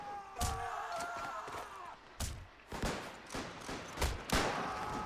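Cannons and machine guns fire in a WW1 battle game, with heavy booming blasts at uneven intervals over a constant rumble of distant gunfire, loud and close, with a brief voice early on.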